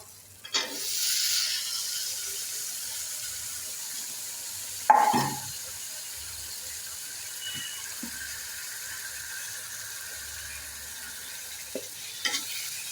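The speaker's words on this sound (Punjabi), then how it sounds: "ਹੁਣ ਇਹਦੇ ਵਿੱਚ ਪਾ ਦਿੰਦੇ ਆਪਾਂ ਪੇਠਾ" Pumpkin pieces drop into a pan of browned, roasted spices, followed by soft sizzling and a few clanks of stirring against the pan.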